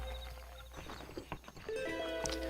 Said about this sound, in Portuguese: O cavalo tá batendo a perna ali, mano.